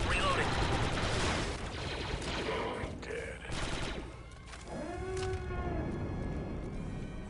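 Dense gunfire from the Star Wars Republic Commando video game rattles on as sustained automatic bursts, loud and continuous, mixed with in-game effects and tonal sweeps.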